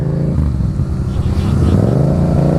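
A Honda Rebel motorcycle engine runs steadily up close, with a low, continuous rumble that swells slightly as it revs, loud and unbroken throughout.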